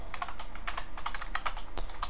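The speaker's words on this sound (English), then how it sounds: "let's say we type in something like this" Quick, steady typing on a computer keyboard, close and clear, a run of light clicking keystrokes with no talking.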